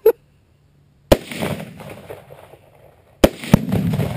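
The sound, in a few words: Tannerite target exploding when shot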